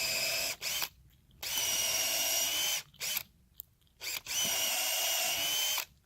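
A power drill whines loudly in several long bursts separated by short pauses, boring at a 45-degree angle into a green wood pole close by, the green wood bogging the bit.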